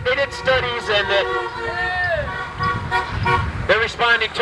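A car horn toots in short, loud honks against a busy street with background chatter and traffic noise.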